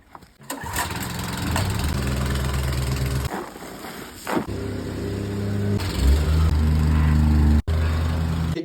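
The small engine of a whacker plate compactor starts on a house renovation site where hardcore is being laid. It settles into a loud, steady running drone with brief dips and surges, close and alone.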